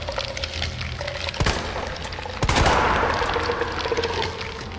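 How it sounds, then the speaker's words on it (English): Resident Evil 2 gunshots fired at plant enemies: two sharp, loud reports about a second apart over a rumbling, noisy game background. "What happens if I shoot those things?"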